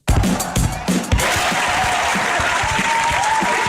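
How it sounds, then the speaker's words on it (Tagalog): Rally crowd applauding for Senator Rodante Marcoleta, dense and sustained clapping throughout, close and loud, with a few cheers mixed in at the start. "bigyan muna natin ng umaatikabong palakpakan ng ating pinakamamahal na si Rodante Marcoleta"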